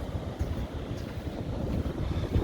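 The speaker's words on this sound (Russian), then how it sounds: "А какие сегодня волны в Варне на Золотых Песках." Sea surf rolls in at Golden Sands beach near Varna on a cold, windy, grey day, a dense low roar of waves mixed with gusting wind buffeting the microphone, steady throughout.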